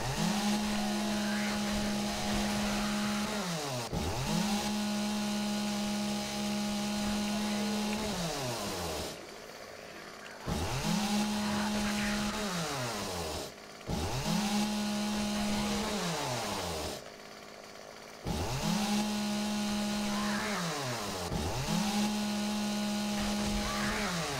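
Chainsaw in the survival game 7 Days to Die, a steady buzzing motor that revs for several seconds at a time, drops to brief pauses and revs again, loud and close throughout.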